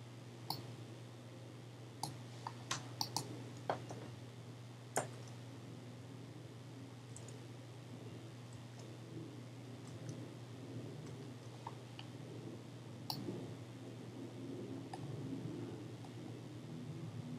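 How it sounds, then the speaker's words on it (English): Keys tapped on a computer keyboard while practicing home row typing, a few scattered sharp clicks early on and then sparse faint taps over a steady low hum, quiet and close. "Practice typing the A key in the box below."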